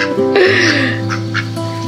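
Ducks quack a few times close by in a farmyard alongside chickens and other fowl, with steady background hum throughout.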